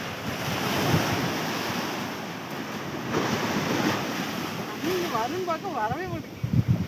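Sea waves wash against an island shore in a constant rushing surf, with wind buffeting the microphone, and voices talking near the end.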